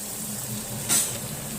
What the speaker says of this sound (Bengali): একটা টেবিল চামচ পরিমাণ লঙ্কা গুঁড়ো দিয়ে ভালো করে নাড়িয়ে চাড়িয়ে নিয়ে আবার এর মধ্যে মাংসগুলো আমি দিয়ে দেবো